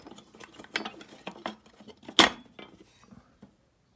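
Screws come out of the damper on a DIY foundry burnout kiln, with close metallic clicks, scrapes and small clatters in quick irregular bursts, one sharper clank near the middle, ending in silence.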